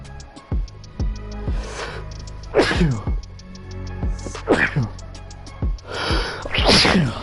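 Several sharp sneezes from a person vaping a weed Juul burst out over a background of clicking game sounds and faint talk, coming in quick bursts spread across the moment.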